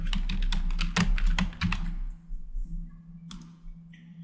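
Rapid clicking keystrokes on a computer keyboard while typing folder names for a Flash ActionScript 3 game project, a dense close burst that thins out into a few scattered taps.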